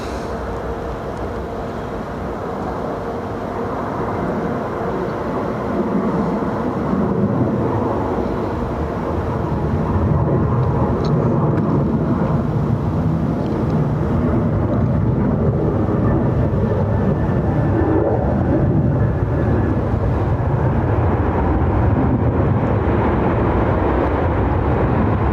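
A Ryanair airliner from Liverpool at Dublin airport, a steady broadband jet roar that builds slightly and holds loud and continuous, with no talk over it.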